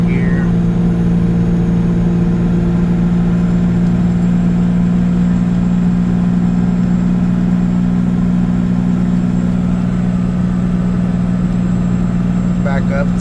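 A 12-valve Cummins diesel truck towing a 22,000-pound load, its heavy engine a loud, unbroken low rumble that holds steady after a downshift, with someone talking briefly over it.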